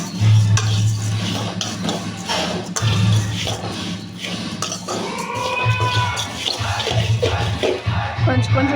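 Semiya stirred as it fries in a pan, a steady scraping of a spoon through the vermicelli with a soft sizzle underneath, continuous and close, some clanks against the pan.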